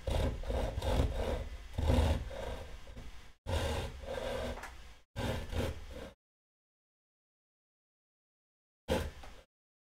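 A saw cuts a kerf into wood in three bursts of rapid rasping strokes, followed by a long pause and one short final stroke, close and fairly loud.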